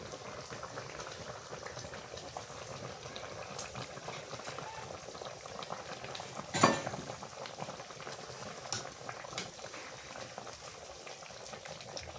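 Bottle gourd curry simmering in a pot in a village kitchen, a soft, steady bubbling boil with one brief clink of a utensil midway and no speech.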